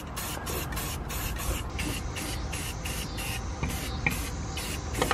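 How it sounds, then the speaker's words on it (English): Steady hissing spray in short repeated bursts from a spray paint can on Jeep JK long arm lift parts, close by, with brief pauses between passes; no talking. "we're gonna go ahead and put a little layer of spray paint on them"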